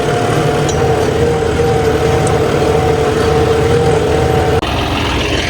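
A New Holland farm tractor engine fitted with a new original silencer runs at a steady, loud drone close by, an unbroken low rumble with no talk over it.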